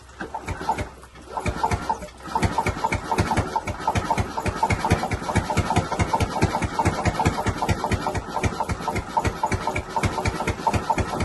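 A motorcycle engine idles close by with a rapid, steady chugging beat, briefly dipping at the start before settling into a constant loud rumble.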